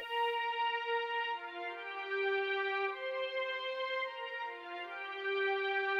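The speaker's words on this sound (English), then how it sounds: "That is the violin ensemble." A violin ensemble holds smooth, sustained chords that shift slowly from one to the next, soft and steady with no other sounds.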